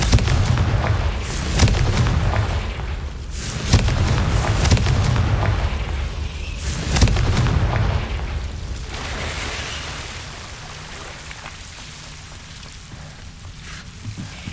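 Repeated fiery Confringo spell blasts in the video game Hogwarts Legacy, several loud booming bursts in the first half that give way to a fading rumble, with no talking.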